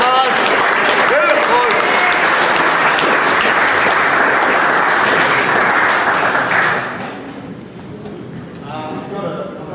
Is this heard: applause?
yes